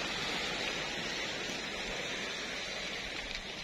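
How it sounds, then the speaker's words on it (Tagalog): Steady broadband wash of surf, continuous and fairly loud, with no distinct individual wave breaks standing out. "Nakakalibang din po pakinggan yung tunog ng alon."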